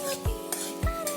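A spoon scrapes twice through cumin and cinnamon in a pan with oil, two short distinct strokes over a faint steady sizzle, close and fairly quiet.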